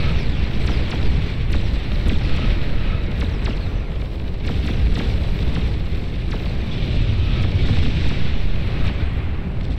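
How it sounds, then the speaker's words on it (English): A bombing run in the strategy game Beyond All Reason: a dense, continuous rumble of explosions and booms with sharper pops scattered through it, loud throughout, with no speech. "Nice little bombing run over here."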